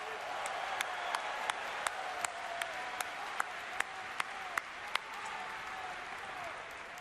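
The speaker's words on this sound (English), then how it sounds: "Please give yourselves a round of applause." Steady applause from a convention crowd at an opening ceremony fills the space, dense and continuous, with a few sharper claps and a faint voice running underneath.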